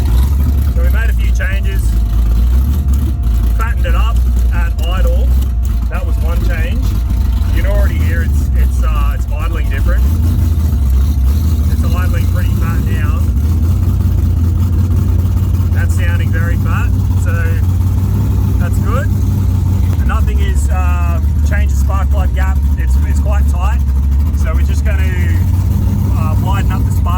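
An engine with freshly reset carburettors, richened at idle, runs close by with a steady low rumble that holds for the whole stretch, while people talk over it intermittently.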